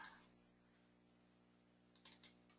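Computer buttons clicked on a keyboard or mouse: a single click, a pause, then a quick cluster of three sharp, close clicks in a quiet room.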